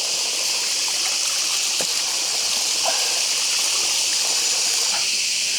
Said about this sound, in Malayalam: ഇവിടെ കണ്ടില്ലേ ഇതാണ് വെള്ളച്ചാട്ടം.